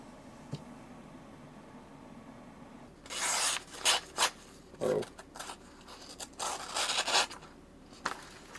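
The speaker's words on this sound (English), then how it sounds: "At this point I got the 140 grit out of most stone. And I decided to sharpen my Benchmade Griptilian." A Benchmade Griptilian knife blade is drawn across a 140 grit sharpening stone in a run of gritty rasping strokes, starting after a quiet pause and repeating in close, uneven bursts with no talking.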